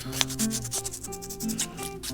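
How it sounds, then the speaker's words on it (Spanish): Fingernail shaped with a small square of sandpaper for guitar playing, giving close, dry rhythmic rasping strokes in quick repeated passes with no talking. "Así le doy forma a cada una de las uñas con esta lija."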